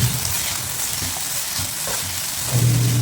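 Curry leaves, coriander and mint hitting hot oil in a pan for vegetable upma, a loud, dense, continuous crackling sizzle with no talk.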